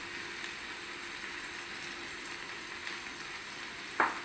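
Ground coriander-cumin and turmeric frying in hot oil for a roasted brinjal bharta, a soft, even sizzle throughout, ending in a brief clink of a spoon against the pan.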